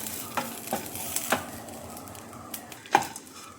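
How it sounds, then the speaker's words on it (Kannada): Curry leaves frying in grated coconut masala for chicken gravy, a soft steady sizzle broken by several sharp scraping knocks of a ladle stirring the pan, close and clear with no voices. "ಕರಿಬೇವು ಸೊಪ್ಪನ್ನು ಹಾಕ್ಕೊಂಡ್ಮೇಲೆ ಕೂಡ ಸೌಟಿಂದ ಚೆನ್ನಾಗಿ ಫ್ರೈ ಮಾಡ್ಕೊಳ್ಬೇಕು"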